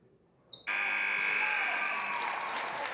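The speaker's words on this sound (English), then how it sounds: "The final buzzer sounds at Seton Catholic Prep" Final buzzer at a high school girls basketball game at Seton Catholic Prep, one loud sustained electronic blare that starts abruptly after a brief faint tone and holds, with crowd noise underneath.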